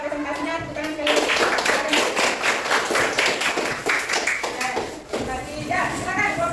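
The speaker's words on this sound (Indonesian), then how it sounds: "Tepuk tangan sekali lagi." A classroom breaks into applause after a presentation, a burst of many hands clapping in quick, dense patter for several seconds, with voices talking over it.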